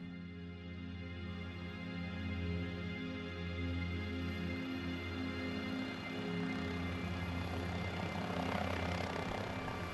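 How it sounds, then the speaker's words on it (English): A Black Hawk helicopter sets down on a road beside a semi-truck, its rotor and turbine roaring loud and close in a steady, dense drone that builds slightly toward the end. "a Black Hawk helicopter lands nearby the semi-truck"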